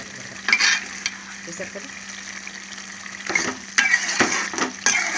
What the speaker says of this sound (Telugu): మనకి ఫ్రై అవుతున్నప్పటికే మనకి ఇలా జ్యూస్లా తయారైంది కూర.